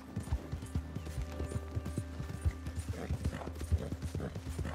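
Horse hooves clip-clop at a steady walking rhythm in Red Dead Redemption 2, close and distinct, over a low game soundscape with faint mechanical creaks.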